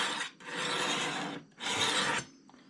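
Scissors sharpened on a stone, the blade run across in two long rasping strokes separated by a short pause, close and fairly quiet.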